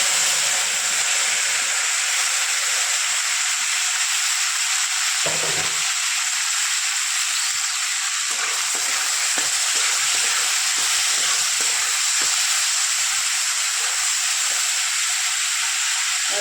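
Mustard seeds, cumin and tomatoes sizzle in hot oil as a steady, loud frying hiss that holds throughout. A few brief clatters and a short thump break through partway.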